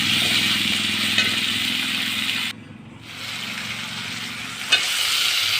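Ingredients for a whole brinjal and coconut milk curry sauté in a pan with a steady, close sizzle, broken by a brief near-silent gap midway and a sharp knock near the end; no one speaks.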